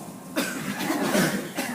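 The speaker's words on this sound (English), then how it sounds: "everybody take a deep breath. And what I want you to do is cough" A group of people coughs together on cue, a burst of overlapping coughs that swells and fades over a second or so, with a second smaller burst at the end.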